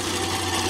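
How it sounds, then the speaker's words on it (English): A 1950s gasoline-engine battery charger runs with a steady, close mechanical hum and buzz. "So you can hear the gas engine's running."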